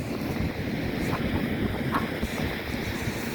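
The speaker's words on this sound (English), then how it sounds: "look how dramatic these waves are coming along." Sea waves break along Paignton Esplanade, a steady roaring wash mixed with buffeting wind noise on the microphone, loud and continuous with no talk.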